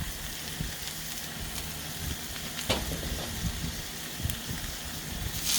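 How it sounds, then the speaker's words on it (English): About a cup of onions sizzles steadily in hot oil for an Indian-style chicken curry, a constant crackling hiss with a few sharper pops, close and moderately loud. "Let it pop, snap, and sizzle at us."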